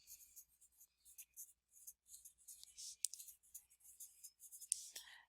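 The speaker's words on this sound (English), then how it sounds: "The second step, we need to draw vertical lines" Pencil or marker strokes scratch across paper as vertical lines are drawn for a math fraction diagram, a series of soft, close, rhythmic scrapes with short pauses between them.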